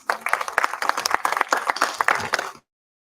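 An audience at a university law conference's valedictory session applauds, a dense burst of close hand clapping lasting a couple of seconds before cutting off into silence.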